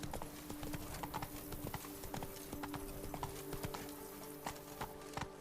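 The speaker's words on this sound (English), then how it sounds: "Even a horse drops if you ride it at a constant gallop." Hoofbeats of Roach, the horse in The Witcher 3: Blood and Wine, pounding in a steady rapid gallop, with a low sustained musical drone running underneath.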